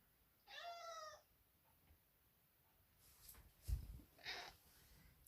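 A house cat meows once clearly and fairly close, a drawn-out harmonic call, followed after a pause by a second, shorter meow amid faint background rustling and a low thump.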